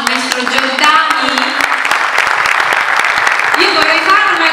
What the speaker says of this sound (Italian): Ma glielo facciamo un applauso al maestro Giordani